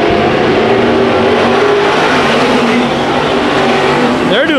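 Race cars roar around the Ocean Speedway dirt track during heat races, a loud, continuous engine drone of several cars together with a rising rev near the end.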